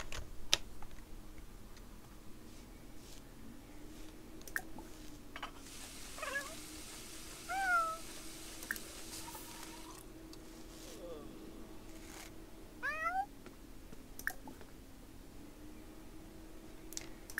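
Cat meowing in The Sims 4 Island Living, with several short, clear meows heard over a quiet game background, mixed with keyboard clicks and someone talking in German.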